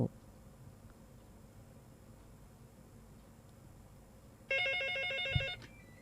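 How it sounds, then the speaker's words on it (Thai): An electronic telephone ringtone announcing an incoming call cuts in suddenly near the end, a bright repeating warble over a quiet background hum at a temple livestream. "มีเสียงสายเข้านะเจ้า"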